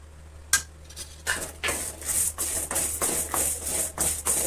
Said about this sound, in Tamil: சேர்த்து ஒரு ரெண்டு நிமிஷம் போல இதையும் அப்படியே வறுத்துக்கிட்டே இருங்க